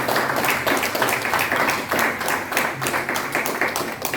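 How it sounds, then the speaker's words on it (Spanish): A church congregation at a Sunday service applauds, dense continuous clapping from many hands filling the room at steady volume for several seconds, with no speech over it. "Démosle un aplauso grande al Señor"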